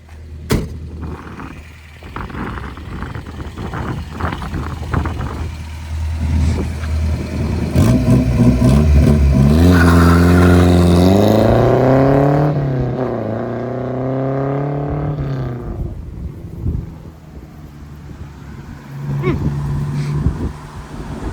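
Ford Anglia car engine revs up and accelerates, rising in pitch over several seconds as the tires spin briefly and then grip, heard outdoors with people talking and cheering around it.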